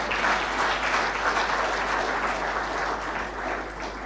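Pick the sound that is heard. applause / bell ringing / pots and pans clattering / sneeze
applause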